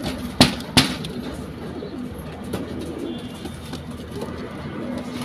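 Rampuri pigeons coo softly and repeatedly in the background while a couple of sharp knocks sound near the start.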